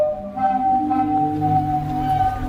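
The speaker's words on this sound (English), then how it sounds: "Zadar has a strange thing called a sea organ that looks and sounds like this." Zadar sea organ on the Croatian waterfront sounding with the waves, a steady, fairly loud sustained organ-like drone of held tones with a soft wash underneath, heard alone.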